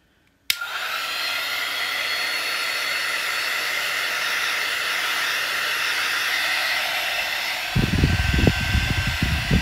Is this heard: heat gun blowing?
yes